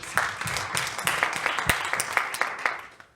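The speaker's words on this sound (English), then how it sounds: "Can we just give a round of applause?" Applause for the women in the room at a Women's Month church gathering, a steady wash of many hands clapping with sharp individual claps standing out, tapering off at the end.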